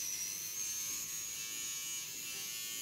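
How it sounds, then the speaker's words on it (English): An electric razor buzzes steadily while shaving a face, including the forehead, as one continuous close hum lasting the whole moment with no talking. "I shave my whole face."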